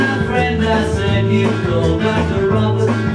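A song playing from a vinyl record, a full band mix with steady rhythm, loud and continuous for a few seconds with no one talking over it.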